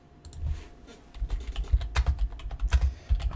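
Quick typing on a computer keyboard while entering a Google search, with a run of soft, irregular key clicks that grow busier and louder partway through, close by and with no voices.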